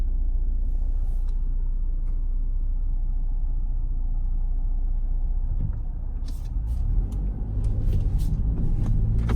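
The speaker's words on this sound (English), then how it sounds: "Today I am test driving a 2019 Ford Edge ST." A 2019 Ford Edge ST in sport mode gives a steady, loud cabin rumble of engine and road noise that swells slightly near the end, with a few faint clicks and taps over it.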